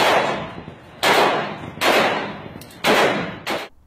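Several loud, sharp gunshot blasts from three people being shot in a street ring out about a second apart, each with a long echoing decay, the last two close together.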